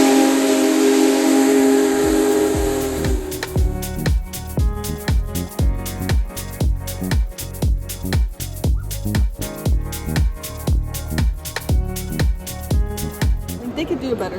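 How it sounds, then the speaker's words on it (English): Union Pacific Big Boy 4014, the world's largest steam locomotive, visiting Philadelphia: a long loud whistle blast with hissing steam, then rapid rhythmic chuffing exhaust beats building steadily as the engine works, near and powerful. "this is the world's largest steam locomotive"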